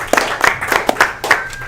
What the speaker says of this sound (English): we're clapping because we think it looks fantastic